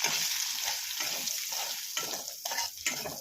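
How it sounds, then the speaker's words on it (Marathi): Semolina stirred and roasting in hot ghee over a low flame for rava kheer, a steady close frying sizzle with rhythmic scraping strokes of a spoon in the pan, no talk. "मंद आचेवर रवा परतून घ्यायचा आहे।"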